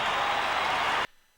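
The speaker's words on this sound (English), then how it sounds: "Listen to the crowd." A large stadium crowd roars and applauds for a Richmond Tigers player's final game, a dense, steady wash of sound that cuts off abruptly.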